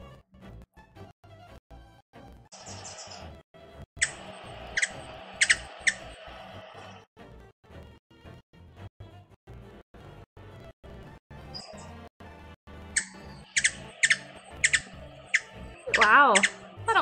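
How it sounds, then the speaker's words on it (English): Hummingbird chirps and squawks from The Great Ace Attorney Chronicles come in short bright bursts between stretches of game sound, with a denser flurry of calls near the end. "Hummingbird sounds."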